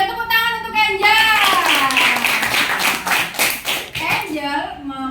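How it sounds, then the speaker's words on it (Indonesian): Brief burst of hand clapping from a small group in a classroom, mixed with a voice and children chattering nearby. "tepuk tangan untuk Angel."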